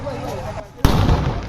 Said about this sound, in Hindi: ये बम गिरा।